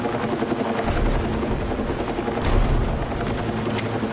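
A helicopter in a video game, a dense, loud, continuous rotor roar that fills the whole span, with scattered sharp thumps that may be gunfire.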